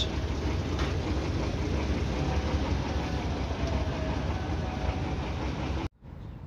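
A 1976 hardtop's big six-cylinder engine idles smoothly, giving a close, loud and steady rumble that runs unbroken until it cuts off abruptly near the end.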